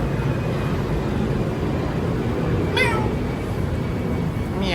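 A cat meows twice in short rising calls on a mountain ride, heard over a constant loud rumble of wind and engine noise, with speech in the background.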